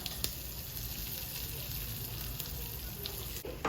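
Nalleru chutney paste hits hot tempering oil and fries with a steady, close sizzle and crackle that holds evenly throughout, with a faint faraway voice at times.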